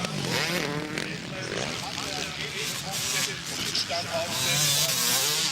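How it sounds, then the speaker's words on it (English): Suzuki motocross motorcycle racing in a 2003 250cc Grand Prix, engines revving and roaring at close range with shifting pitch, under continuous race commentary. "Stefan Everts only has the roost of the Suzuki ahead of him"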